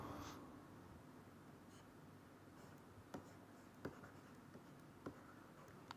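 Pen or marker writing a chemical structure during a lecture, quiet scratchy strokes with a few sharp taps, faint and close with no talking.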